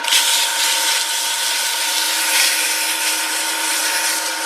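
Sanding a handmade all-wood pen with 320-grit sandpaper: a steady, close, bright scratchy rubbing that keeps going with slight swells in strength, with no voices over it.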